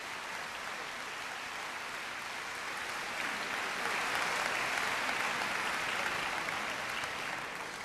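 A church congregation at a mission conference applauds missionaries from the Middle East and communist countries, a steady, dense wash of clapping from a large crowd that swells slightly midway and continues throughout.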